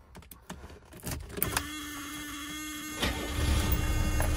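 After a few clicks and knocks, a car's warning buzzer sounds as a steady, fairly loud electronic drone for about a second and a half, followed by rising engine noise.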